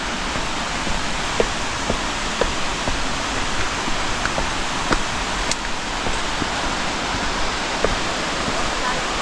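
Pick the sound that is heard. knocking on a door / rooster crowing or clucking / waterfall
waterfall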